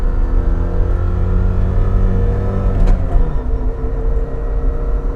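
A Lada Niva pulls uphill under steady acceleration, with a loud, continuous engine drone and road rumble from inside the car and no talk.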